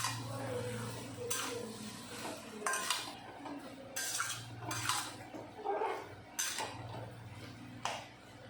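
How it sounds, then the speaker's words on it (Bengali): A spoon stirs taro leaf curry in a pan, giving a series of distinct clanks and scrapes at uneven intervals over a soft background hum. The sound is close, and nobody talks. "এখন আবার ভালো করে মিশিয়ে নেব।"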